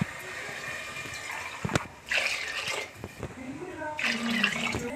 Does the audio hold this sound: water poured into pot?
yes